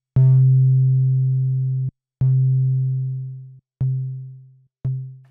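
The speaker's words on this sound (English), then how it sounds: "you can hear how decreasing the decay controls the amount of time before that note fades out" A synthesiser bass note set to zero sustain plays four times. Each note starts sharply and fades. The first rings for almost two seconds, and each later note dies away faster as the decay is shortened.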